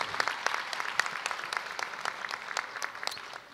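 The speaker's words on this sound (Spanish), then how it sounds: "Un fuerte aplauso nuevamente en reconocimiento a estos cuatro años de labor" Applause from an academic ceremony audience at an inauguration and awards event, steady scattered clapping from a moderately distant crowd, fairly quiet and continuous for a few seconds.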